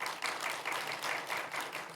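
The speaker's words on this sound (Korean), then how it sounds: "박수로 격려해 드리겠습니다." A church congregation at a Sunday service applauds to encourage missionaries, faint, fairly distant clapping that rises and falls in soft waves for a couple of seconds.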